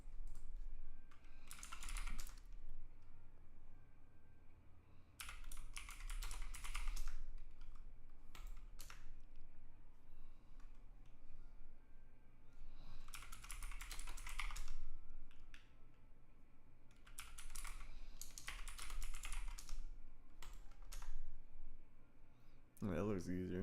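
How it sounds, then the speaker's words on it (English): Bursts of rapid typing on a computer keyboard come and go in several clusters with quiet gaps between, close and crisp, during a cyber security lesson. "I'm using the up arrow on my keyboard to be able to see that."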